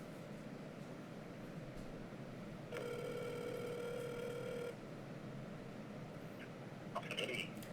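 A telephone rings once in a long electronic burst while a call is placed to a cell phone, steady and fairly loud over a constant room hum, followed by silence and a brief click.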